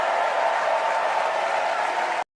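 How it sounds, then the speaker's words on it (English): A steady burst of crowd applause, dense and continuous, cutting off abruptly at the end. "I gave Trump Kamala's applause"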